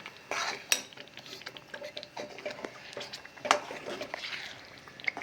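A spoon scrapes and clinks against a pan while a ginger pak mixture is stirred, irregular close metallic taps and scrapes with a soft sizzle underneath, no voices.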